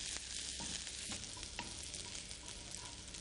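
Garlic and finely chopped small onion frying in a pan on a cooking show, a steady broadband sizzle with a few soft stirring scrapes, close and continuous with no talk.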